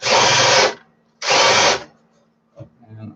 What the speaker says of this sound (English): what I'm actually doing is deburring the holes